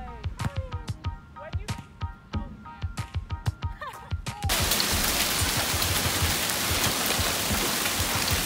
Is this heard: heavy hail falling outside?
yes